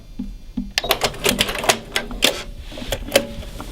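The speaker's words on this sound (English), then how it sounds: "And I'm going to sew the other angle. And do a little back stitch." A sewing machine stitches a short back stitch on mitered quilt binding, giving a close, rapid mechanical clatter with quick needle taps and brief pauses.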